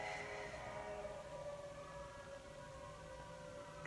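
Ambulance siren passing outside, a faint, steady wail heard through a room with low background hum and no talking.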